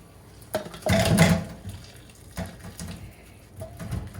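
Water poured out of a pot into a kitchen sink while preparing Spanish callos (tripe stew), a close splashing gush that hits hard then trails into scattered drips and smaller splashes.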